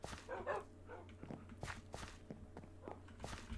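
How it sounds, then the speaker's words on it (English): Several tamed dogs in a Minecraft survival world bark and yip in short, sharp bursts, spaced irregularly over soft footstep sounds, fairly close and moderately loud. "Oh yeah, here's my dogs."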